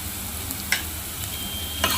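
Sprouted moth beans sizzle quietly in a pan as turmeric, salt and asafoetida are stirred in, a soft continuous frying hiss with two crisp clinks of a spoon against the pan.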